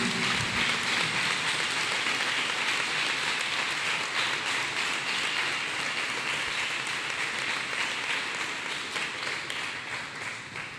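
A church congregation claps for Jesus Christ, dense steady applause from many hands filling the space, holding strong throughout and easing off slightly near the end.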